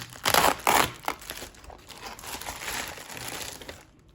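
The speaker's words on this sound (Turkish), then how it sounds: "şu kutuyu bir açalım istiyorum" Cardboard and plastic packaging of a Casio MDV106 Duro watch box being opened, with loud crinkling and rustling bursts early, then steadier crumpling handling noise, close and alone.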